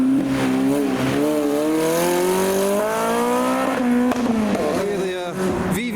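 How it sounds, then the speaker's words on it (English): A Toyota MR2 tuner car pulls away over anti-car-meet speed bumps with a rising engine note and revving, a loud, close engine that falls slightly in pitch as it departs, with voices talking over it. "The MR2 with no time for speed bumps is now departing."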